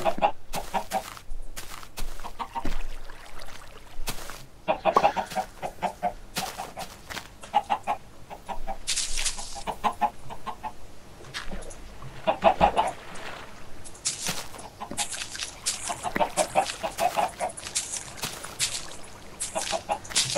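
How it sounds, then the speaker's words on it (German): Chickens cluck repeatedly in the Minecraft video game, clear bursts of bird calls coming and going over the whole stretch, close and fairly loud against faint background sound. "Ey, hier sitzt ein Huhn neben dem Käfig"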